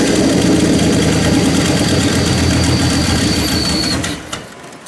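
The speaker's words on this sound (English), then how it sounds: "We need to turn the idle up just a little bit." A turbocharged LS car engine idles steadily and loudly with a rough, throbbing rumble and a faint whine above it, running evenly before dropping off abruptly near the end.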